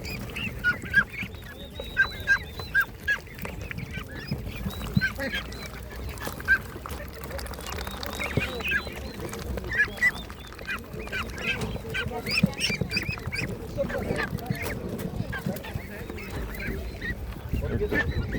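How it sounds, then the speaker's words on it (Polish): Geese honk repeatedly at an animal market in Szczuczyn, Poland, their calls overlapping with other fowl chatter and a steady outdoor background. "Tutaj gęś, gęsie mamy."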